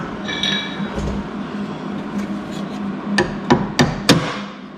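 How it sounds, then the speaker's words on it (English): A few sharp metallic hammer strikes setting a tab on a truck cab corner panel, three or four close blows in quick succession toward the end, after quieter clinks and handling noise. "Grab my hammer."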